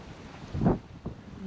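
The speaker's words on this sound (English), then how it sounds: "There's massive waves out there" Massive waves crashing against the South Jetty at the Ocean City Inlet in Maryland, heard as a deep rumbling surge and a smaller second surge amid steady wind buffeting the microphone.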